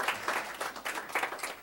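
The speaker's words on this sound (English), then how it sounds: "Maybe you should offer these folks a round of applause too." Brief, fairly quiet clapping from an audience at a school board meeting, a short scattered patter of hands that lasts under two seconds.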